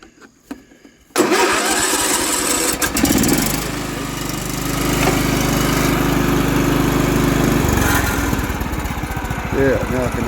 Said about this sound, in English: Alright, I'll bring it right back so we get it started back up.